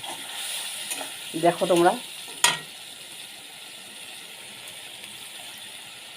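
A little water is poured into frying spice paste for egg kalia, giving a sharp burst and then a soft, steady sizzle; someone speaks briefly just before.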